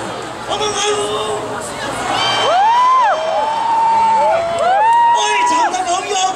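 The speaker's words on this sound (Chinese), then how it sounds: "我们欢呼。" A sit-in protest crowd inside the legislature cheers and whoops loudly in a sustained, swelling roar. Shouting voices rise and fall over dense background chatter.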